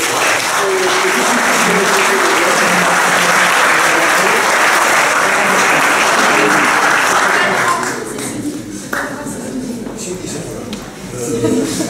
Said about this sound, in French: je voudrais qu'on les applaudisse chaleureusement